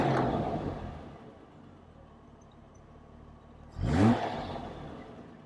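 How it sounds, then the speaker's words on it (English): Triumph GT6 Mk.3 straight-six engine with twin carburettors, heard with a steady low engine rumble and then one short, loud rev that rises and fades near the end. "So it is that straight six under the bonnet. We've got twin carb, and it just sounds, well, rather delicious."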